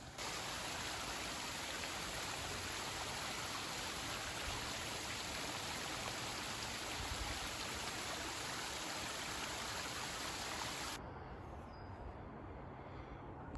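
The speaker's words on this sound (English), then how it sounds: "I got a pretty little water feature right here." A small stream on a hiking trail in the North Country woods runs as a steady, close, bright rush of water for most of the stretch, then drops away abruptly to a much quieter background near the end.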